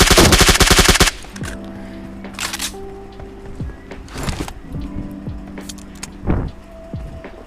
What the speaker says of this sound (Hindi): यहाँ पे फायरिंग की आवाज़ सुन के बंदा आता है, फिर मैं इसके ऊपर फायर करता हूँ